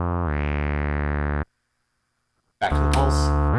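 Modular synthesizer VCO sawtooth wave, a bright buzzing sustained note that rises slightly at onset, stops dead, and after a short silence returns with a noisy burst as the waveform switches.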